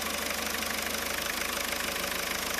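A car engine runs at slightly raised RPM during a charging system check, a steady mid-pitched hum with a faint rhythmic ticking, even and unbroken.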